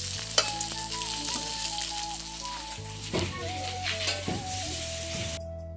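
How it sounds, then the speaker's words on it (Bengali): Cut potatoes fry in a pan with a steady close sizzle, joined by a few scraping stirs and clinks of a utensil against the pan. "এদিকে আলু কেটে দিচ্ছি, এগুলো হচ্ছে আলু ভাজা, রান্না বান্না চলছে।"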